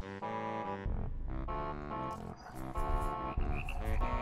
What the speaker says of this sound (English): I want a gaggle of frogs